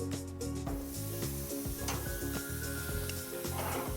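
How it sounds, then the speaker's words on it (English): A steak cooking on a grill at medium heat sizzles and crackles steadily throughout, with a busy, continuous texture and no voices over it. "And we're just gonna let it grill."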